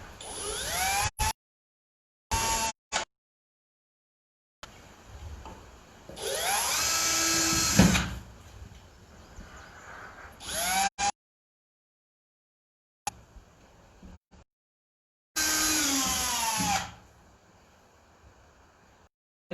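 A small drill spins a tiny bit through nail holes in repeated short, high-pitched whining bursts, eight holes in all, separated by silent gaps.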